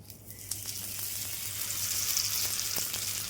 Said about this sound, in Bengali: তেলটা গরম হয়ে গেছে এবার আমি একটা একটা করে ভেজে নেবো